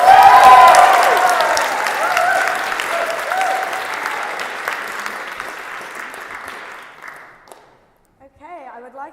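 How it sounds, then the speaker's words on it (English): Loud audience applause at a debate on legalising drugs opens at full strength, then slowly thins and fades away before a speaking voice begins at the end. "it better be a really, really big round of applause"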